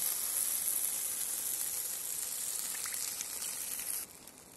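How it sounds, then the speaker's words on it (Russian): Water poured onto basmati rice in a kazan over a campfire hisses and sizzles as a loud, steady rush, close up, cutting off abruptly near the end and leaving a quieter simmer. "Добавим водички."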